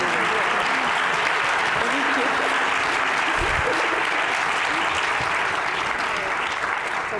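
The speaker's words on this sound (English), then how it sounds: "can everyone please give a round of applause" A dense, sustained burst of applause fills a public health panel discussion on the racial wealth gap, loud and continuous from start to finish, close-up and unbroken.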